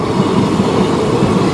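A train rolls slowly along a nearby railway line under a speed limit of 30 to 40, giving a steady close rumble of wagons with a dense, even roar and no voices.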